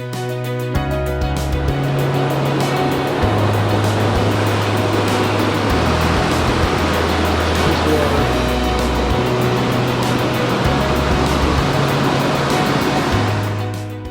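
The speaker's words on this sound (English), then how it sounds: "It's amazing to see the water just flow out of the ground from all directions." Spring water flows out of the ground along the trails at Tel Dan nature reserve, a constant broadband rushing wash that holds steady throughout, with a stepped low musical bass line underneath.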